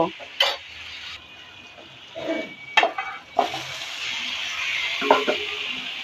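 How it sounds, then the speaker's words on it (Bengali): Fish dropped into a pan of frying onions and black cumin, giving a steady sizzle with several short clatters and stirring scrapes, close and fairly loud, no talking. "এবার আমি মাছগুলো ছেড়ে দিব"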